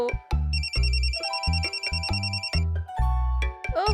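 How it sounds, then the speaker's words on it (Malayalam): A cartoon phone ringtone plays a bright, repeating electronic melody with trilling notes over a bouncy backing beat, loud and with no talking over it. "ആരാ ഈ നേരത്തെ എന്റെ ഫോണിൽ വിളിച്ച് മാഡത്തിനെ ഡിസ്റ്റർബ് ചെയ്യുന്നത്?"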